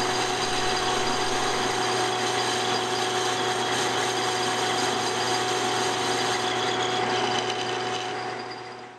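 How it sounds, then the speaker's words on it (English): Metal lathe cutting a mild steel idler wheel shaft for a Do-All bandsaw to final length, a steady loud broadband cutting hiss with a constant motor hum and whine running throughout, easing off at the very end. "tool to cut this shaft to its final length and then to reduce that back section down a little just so there's no interference there"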